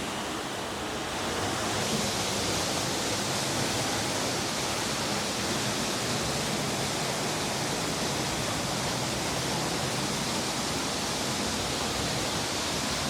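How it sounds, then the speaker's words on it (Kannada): A steady, loud roar of rushing water pours on without a break from the Varichora waterfall heard from close by, with no voices. "ಅಲ್ಲಿಂದ ನೀರು ಬೀಳ್ತಾ ಇದೆ."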